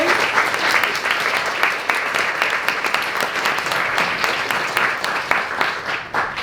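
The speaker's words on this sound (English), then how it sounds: "Can we get one last round of applause for all of our great student speakers?" A crowd gives a sustained round of applause for student speakers at a commemorative ceremony, dense continuous clapping from many hands at a steady level throughout.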